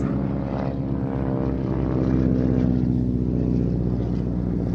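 A propeller aircraft drones steadily overhead during an aerobatic display at an air festival, its engine note holding loud and continuous with a slight rise in intensity midway.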